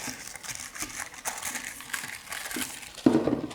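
Baking paper crinkles while a cake tin is lined for a rhubarb cheesecake, a steady close rustle with a sharper crumpling burst near the end, no talking.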